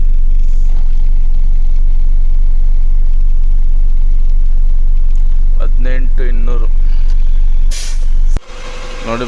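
A travel vehicle's engine idles steadily at close range with a low continuous rumble, and a voice is briefly heard partway through. Near the end a sharp burst of noise, like an air brake release, cuts in.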